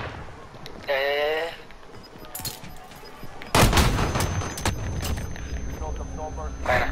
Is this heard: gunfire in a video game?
yes